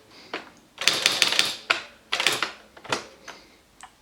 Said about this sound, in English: Like say you wanted a name and date header, like this.